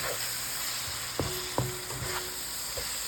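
Minced beef and methi being stirred and fried in a pan, with a steady low sizzle and a few distinct scraping knocks of the spoon against the pan.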